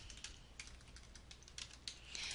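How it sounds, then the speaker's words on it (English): Typing on a computer keyboard while entering text into a Dreamweaver page, with soft irregular key clicks tapping steadily. The keystrokes are faint and sit over low background hiss, and no one speaks. "start typing."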